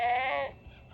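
A single lamb's bleat on a farm, loud and close, with a wavering voiced tone that fades after about half a second.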